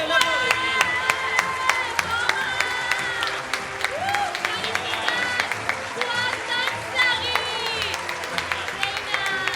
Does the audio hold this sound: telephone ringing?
no